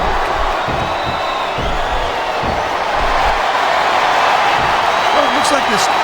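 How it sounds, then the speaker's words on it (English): Arena crowd roaring and cheering in WWE SmackDown vs Raw 2007, set at a SmackDown event with Vancouver fans; a dense, steady wall of crowd noise runs throughout, with occasional whoops rising from the din and no clear talk in the foreground. "I can't remember the last time I saw a crowd this pumped up for SmackDown action."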